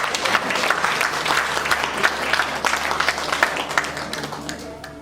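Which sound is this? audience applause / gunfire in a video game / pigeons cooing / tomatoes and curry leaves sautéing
audience applause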